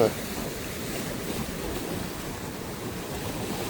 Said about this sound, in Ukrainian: Океан бушує.